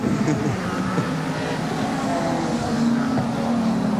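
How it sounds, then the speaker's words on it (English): Touring cars race at Lakeside raceway in the 1987 Australian Touring Car Championship, including a BMW, their engines blending into a steady, loud roar over four seconds. "Car number 3, the JPS BMW all over Peter Brock"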